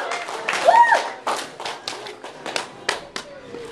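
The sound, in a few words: applause for two fighters at a weigh-in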